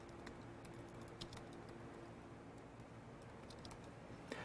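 Quiet keystrokes tapping out a command on a computer keyboard, a short run of light irregular clicks over faint background hiss.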